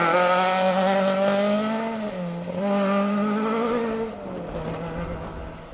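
A rally car engine howls past close by, its pitch rising and falling as the revs climb and the car shifts gear, then fading after about four seconds, loud throughout with no talk.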